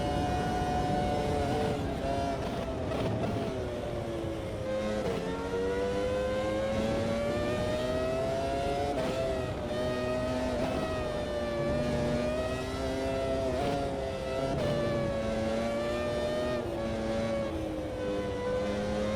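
A 1999 Formula One car engine in the Automobilista 2 racing game at Japan's Grand Prix, screaming continuously at high revs with rising and falling pitch through gear changes and braking, loud and close throughout.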